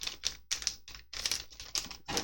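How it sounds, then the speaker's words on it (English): A GC Loader package for a GameCube mod is torn open by hand in a run of short, crackly ripping bursts with brief pauses between them, close and fairly quiet. "rip it open"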